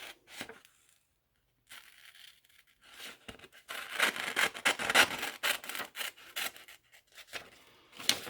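Scissors snip and rasp through paper while extra paper is trimmed from a cut-out figure for a children's craft, a series of close, irregular crunchy cuts after a short pause, with no talking.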